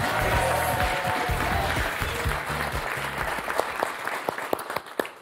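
Studio audience on a French TV game show (Motus) breaks into loud, sustained applause that fills the room, thinning toward the end into scattered individual claps.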